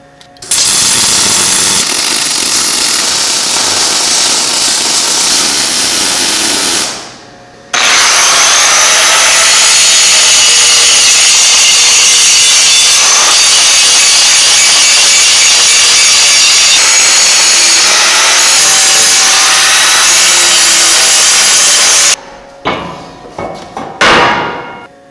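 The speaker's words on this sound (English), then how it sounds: "Whenever you're grinding down the weld that hangs over the front" An angle grinder grinds down weld bead on a shaved 14-bolt axle housing, a loud, continuous harsh whine right up close that cuts out briefly once and then resumes before spinning down.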